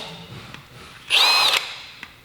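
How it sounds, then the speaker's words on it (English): A power drill boring out the four mounting holes for fog lights, heard as one short, loud whine of under half a second that rises and then stops, with quiet room tone before and after. "what you're going to need to do is drill out the 4 mounting holes"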